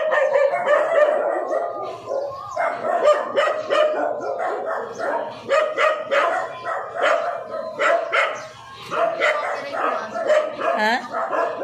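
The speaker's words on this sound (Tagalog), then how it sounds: "Tapos yung aso, tumahol." A dog barks and yips repeatedly in bursts, fairly close and loud, with some whimpering tones mixed in and people talking around it.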